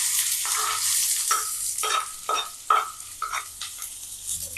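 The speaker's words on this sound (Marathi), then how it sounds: "आता मी कांदा टाकून घेते। तेल गरम झालं आपलं।" Chopped onion dropped into a spoonful of hot oil in a kadhai, sizzling and frying while a spoon stirs it in repeated short scrapes, close and clear with no talking.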